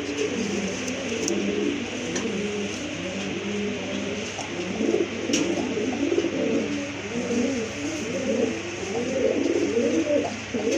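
A pair of red pigeons coo steadily and close by, a continuous rolling chorus of low, throaty calls with no pauses and no voices.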